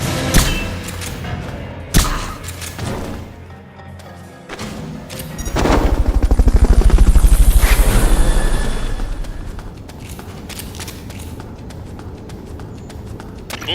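A Fulton recovery helicopter in the game Metal Gear Solid: Peace Walker swells into a loud, rhythmic rotor thrum after some scattered thuds, peaks, then fades into a lower steady drone.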